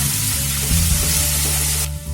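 Finely chopped onions fry over a medium flame for Punjabi kadhi pakora, a loud, continuous close-up sizzle with light stirring, cutting off abruptly just before the end.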